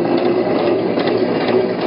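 A sewing machine runs steadily while stitching a tote bag, giving a continuous, fairly loud mechanical whirr with a fine rapid ticking of the needle and no voices.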